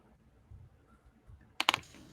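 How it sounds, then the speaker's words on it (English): Quick bursts of typing on a computer keyboard while chatting on Twitch: a brief cluster of three or four sharp key clicks near the end, close and fairly loud, after a near-silent stretch. "I was typing in the chat on Twitch too."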